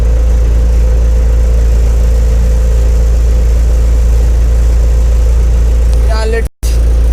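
Steady low rumble of an Ajax Fiori Argo 4000 self-loading concrete mixer truck engine idling nearby, constant throughout, then cutting out abruptly near the end.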